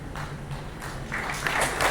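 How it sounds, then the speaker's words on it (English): An audience at a Vestige corporate event applauds, the clapping building from a thin patter into louder, fuller bursts over a low hum of the hall. "So round of applause, you people are actually number 1"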